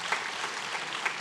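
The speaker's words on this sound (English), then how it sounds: "Another round of applause for him" A conference hall crowd at the Lake Chad Basin Governors' Forum in Maiduguri applauds the Governor of Borno State, a steady, dense clapping throughout the brief moment.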